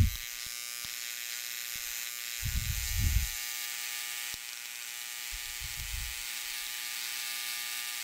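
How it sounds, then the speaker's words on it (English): A Dremel engraver fitted with a broken 1/8 inch carbide end mill buzzes steadily as it carbidizes a surface under electric current, a constant electric whine close by with a couple of brief low thumps. "So I have my Dremel engraver, I have the positive hooked up to the carbide."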